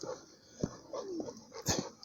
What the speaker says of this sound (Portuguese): Quando você tá segurando a guia aqui, os cachorros latem.